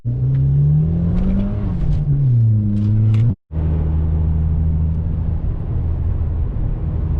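A Nissan Patrol 4x4 on very large wheels drives past close and loud, its engine droning and shifting pitch, with a brief drop in sound before it carries on steadily. No one talks.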